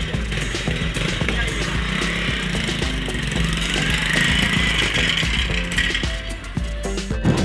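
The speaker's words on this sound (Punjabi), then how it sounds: "ਮੋਟਰਸਾਈਕਲ ਸਟਾਰਟ ਹੋ ਗਿਆ" A motorcycle engine runs steadily at idle in a village after being started, a continuous close mid-pitched rumble with a faint knocking texture and some background activity throughout.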